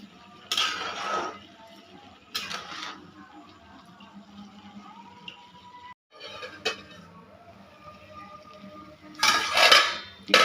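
Sweetened white pulao with sugar and a little salt being mixed in a pot, giving bursts of metal spoon scraping and clinking against the pot, with quieter stirring between and a sharper clatter near the end.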